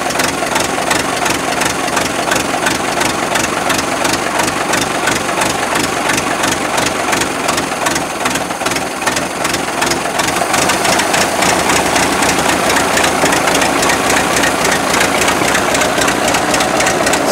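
Old Doodle Bug tractor engine idling after its first start in two years: a loud, steady, close mechanical chug with a rapid knocking pulse that continues unbroken throughout.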